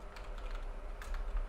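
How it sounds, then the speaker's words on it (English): Fingers tap quickly and steadily on a computer keyboard, the close, dense clicks continuing alone without any voices. "I like typing, so gotta get my fingers moving."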